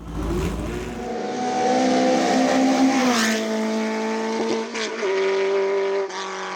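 A Martini MK15 historic race car roars past loud and close, engine note rising and falling through gear changes, with no voices over the steady mechanical howl.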